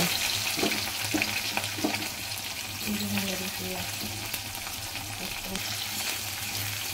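Chopped onion and bay leaf frying in a pan with cumin, cinnamon and dried chili, a continuous close sizzle with a brief faint voice partway through.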